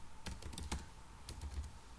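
Fast clacking keystrokes as C code is typed on a computer keyboard, two quick clusters of close, crisp key presses with no talking.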